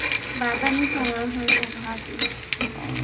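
Onion, garlic and chili sizzle and fry in a pan while being stirred, a steady close hiss with scraping stir strokes throughout and occasional faint voices in the background.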